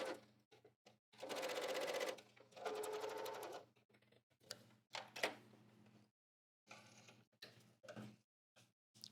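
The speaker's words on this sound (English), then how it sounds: "now I'm just stitching a line a 1/4 inch from the edge." A sewing machine straight-stitches a line a quarter inch from the top edge of a pocket in two short runs, then stops, followed by scattered clicks and handling noises of clipping threads and smoothing fabric.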